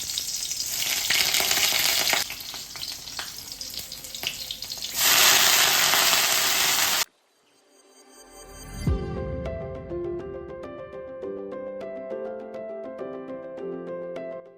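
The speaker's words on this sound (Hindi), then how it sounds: "इधर मेरा कढ़ाई चल रहा है, तो चलो बनाते हैं साग।" Saag greens frying in a kadhai wok, loud steady sizzle for about seven seconds, then a drop and quieter sizzling beneath clinking, ringing kitchen sounds.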